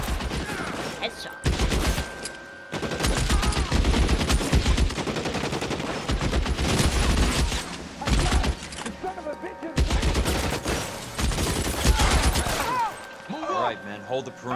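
Rapid gunfire in the LA Noire video game rattles in long, dense bursts, broken by short pauses, with a voice speaking among the shots.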